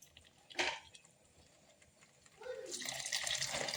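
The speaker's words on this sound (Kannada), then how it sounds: "ಇದಕ್ಕೆ ಬಿಸಿನೀರು ಹಾಕ್ಕೋತೀನಿ" Hot water poured onto rice in a pressure cooker: a brief splash, a pause, then a sustained, brighter pouring stream building toward the end, quiet and close, with no talking.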